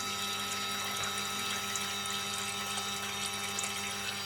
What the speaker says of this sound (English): So you can see I got the vortex going there.